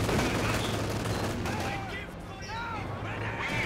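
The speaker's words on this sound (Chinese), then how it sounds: "重点是这一轮机枪有没有中" Machine gun fire crackles in Company of Heroes 2, part of a dense, steady wash of battlefield gunfire that stays loud and continuous the whole way through.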